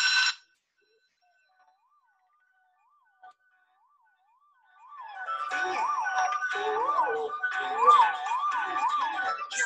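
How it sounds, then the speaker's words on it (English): A fire truck siren wails in a rising and falling pattern, faint and distant at first, then growing loud and close over a busy mix of other sounds. "Here comes the fire truck driving down the street."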